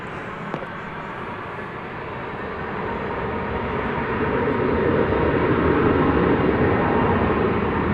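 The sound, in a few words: American Airlines Airbus A319 arriving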